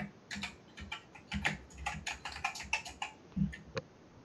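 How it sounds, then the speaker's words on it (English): Typing on a computer keyboard during a live development stream, with rapid uneven keystrokes and a few heavier key presses, close and clear with no talk. "To the beat of the keyboard."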